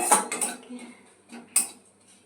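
A metal spoon scrapes and clinks against a cooking pan while tempering spices with turmeric are stirred, a few short sharp knocks and scrapes close by, separated by brief quiet gaps.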